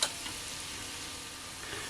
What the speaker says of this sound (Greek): τηγανίζουμε για μισό λεπτό να μαλακώσει λίγο το σκόρδο